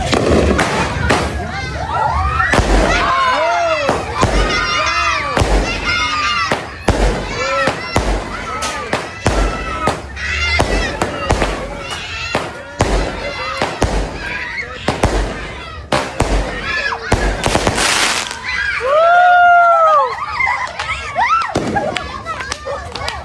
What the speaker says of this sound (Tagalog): Cupid, 16 shots by Legendary Fireworks.